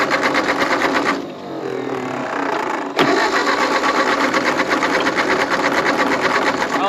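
A 1939 Ford 9N tractor engine runs steadily up close, its loud, even mechanical chatter briefly dipping before a sharp knock and resuming at full level.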